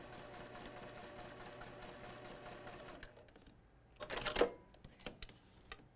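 A sewing machine stitches a quarter-inch seam on fabric for half-square triangles with a steady, rapid whir for about three seconds, then stops, followed by a few close clicks and rustles of handling.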